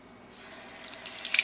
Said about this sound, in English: Wash the clam off.